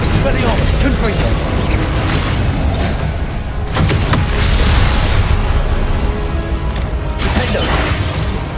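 Confringo spells explode during a duel in Hogwarts Legacy, with loud booming blasts and crackling bursts layered over dense, continuous combat noise while a voice talks throughout.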